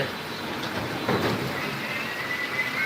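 Steady rain falls throughout, a continuous hiss of fairly heavy downpour that holds even from start to finish, with no talking heard.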